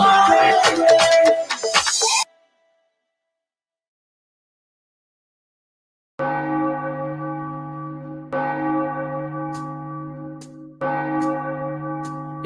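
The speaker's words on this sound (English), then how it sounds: "every time I hear the church bell" Loud church bell strikes, three resonant tolls ringing out with long sustained hum, following a short burst of other sound and a silent gap.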